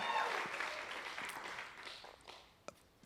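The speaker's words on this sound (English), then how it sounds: "the voices of all of the people here standing and cheering" A large audience at the Clinton Global Initiative 2022 standing and applauding, a dense wash of clapping and cheers that starts loud and slowly thins out toward the end.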